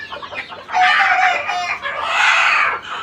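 Newly bought laying hens cluck loudly nearby while a rooster lets out drawn-out crows, the calls overlapping in two long bursts after a brief lull of quieter clucking.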